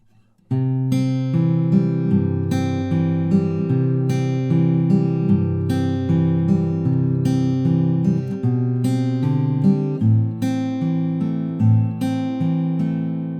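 Acoustic guitar Travis-fingerpicked in a steady alternating-bass pattern, bright plucked notes over a thumping low line, played alone and close for several bars.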